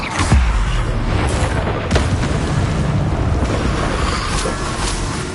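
An Incendio fire spell is cast in a video game, giving a loud, dense roaring whoosh with booming thumps that holds without a break from start to finish.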